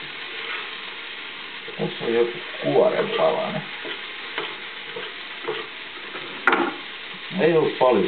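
Onions fry in a pan with a steady close sizzle, while a voice speaks intermittently over the crackle.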